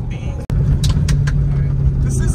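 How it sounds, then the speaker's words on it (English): A C6 Corvette drift race car engine drones steadily at close range with road rumble over a potholed road, a sharp thump midway, and bursts of talk over the cabin noise. "we are in a C6 Drift Corvette race car"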